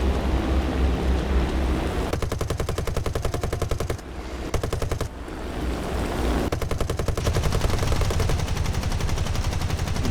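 Rapid machine gun bursts in the War Thunder video game rattle loud and close in long continuous volleys, broken by a brief pause, over a dense low engine rumble.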